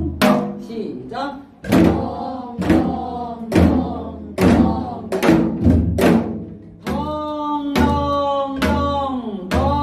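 Korean janggu drum struck in the gutgeori rhythm for folk song accompaniment, with steady, close thumping beats across the span, overlaid by a voice chanting the drum syllables in time, imitating the strokes.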